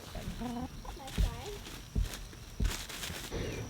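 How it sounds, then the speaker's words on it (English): Several chickens cluck softly nearby amid a few thumping footsteps and some light rustling. "All the chickens are following us."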